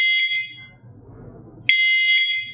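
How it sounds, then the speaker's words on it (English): A Petrainer PET910 electronic dog training collar emits two loud, shrill electronic beeps roughly 1.7 seconds apart, with faint low rustling in the quiet gap between them. "it will beep every 2 seconds."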